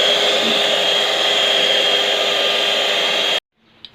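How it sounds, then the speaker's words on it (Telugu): Cream blended with sugar by an electric blender for ice cream, a loud, steady motor whir running close up for over three seconds, then cutting off abruptly into near silence with a faint clink. "ఇలా కొద్దిగా షుగర్ వేసుకుంటూ ఇలా బ్లెండ్ చేసుకుంటే మనకి క్రీమీగా వచ్చేస్తుంది"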